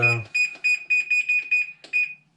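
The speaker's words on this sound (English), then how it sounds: "set the timer" Kitchen timer being set while making pizza in a home kitchen: a string of short, high electronic beeps in a quick even rhythm after a brief voice, the last beep set slightly apart, near and clear.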